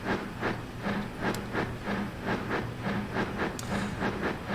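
A passenger train in Transport Fever 2 rolls along with a regular clickety-clack beat over the rails and a low rumble underneath, running steadily at close range without pause.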